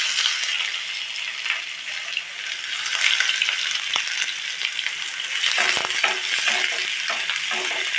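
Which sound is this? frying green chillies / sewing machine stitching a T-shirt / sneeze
frying green chillies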